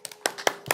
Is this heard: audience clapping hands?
yes